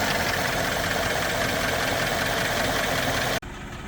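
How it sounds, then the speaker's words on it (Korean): A Mercedes-Benz S500 S-Class engine with a fault, in poor condition, runs close and loud with a rough, uneven churning rumble and knocking texture, then cuts off abruptly near the end, leaving only faint background noise. "지금 뭐 엔진 소리 들어보시면 아시겠지만 차량 상태는 좋지 않습니다."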